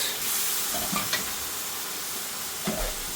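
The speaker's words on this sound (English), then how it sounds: "The potatoes are still cooking." Bombay potatoes simmer in base gravy in a pan with a continuous bubbling sizzle and a few soft stirring scrapes, close and moderately loud.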